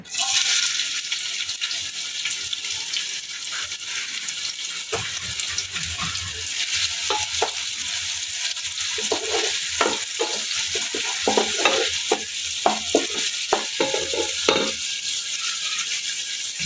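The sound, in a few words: chopped onions frying in hot oil for biryani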